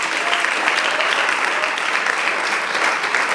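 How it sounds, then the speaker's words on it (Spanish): A church congregation claps loudly and continuously during a Spanish-language worship service. The applause is dense and even throughout, with no talking over it. "¿Cuánto le da un aplauso fuerte al Señor?"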